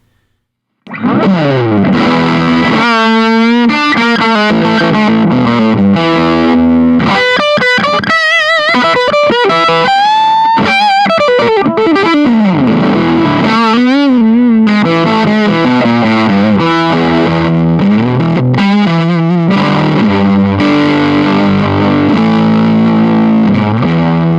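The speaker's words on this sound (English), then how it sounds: "our Velvet Fuzz, which is obviously going to boost the amp into some fuzz territory" Electric guitar played through a Velvet Fuzz pedal into a Marshall Class 5 amp, thick saturated chords and sustained notes ringing out loudly with a buzzing, distorted edge.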